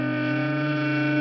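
A trombone growls on a sustained, buzzing note as the player hums into the horn, producing a rough, distorted, steady tone that lasts throughout.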